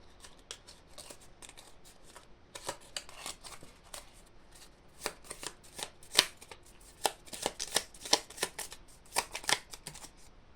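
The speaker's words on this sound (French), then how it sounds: "je vais clôturer le tirage avec le petit oracle des couleurs" Oracle cards being shuffled by hand during a colour-oracle reading, giving soft papery riffles and taps that come in irregular bursts and grow denser and louder toward the end, with no talking.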